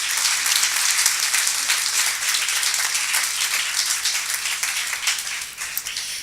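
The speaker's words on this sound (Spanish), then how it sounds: "Le damos un fuerte aplauso, por favor" At an academic conference on migration, the audience gives a speaker sustained applause, a thick, continuous wash of clapping at moderate loudness that stays fairly level throughout, with no speech over it.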